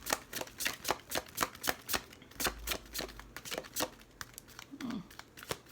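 Tarot cards are shuffled in quick, rhythmic bursts of crisp riffling, about ten sharp strokes close up, with a soft rustle and a brief pause near the end.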